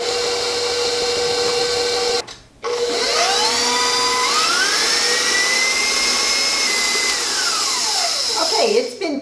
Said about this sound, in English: we're going to mix it on high speed for about 2 minutes